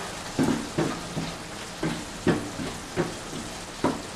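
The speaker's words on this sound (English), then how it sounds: "Give it a little bit of a stir." Garlic powder is stirred into a sizzling pan for a Greek pastitsio sauce. A spoon strokes the pan in a regular rhythm about every half second, each stroke a close scrape over a low, continuous sizzle, with no voices.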